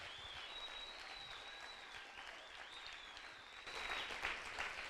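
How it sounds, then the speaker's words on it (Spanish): Church congregation applauding during a sermon, a continuous distant clapping wash with cheers and whistles rising above it, swelling louder toward the end. "Aplauda al Rey de Gloria,"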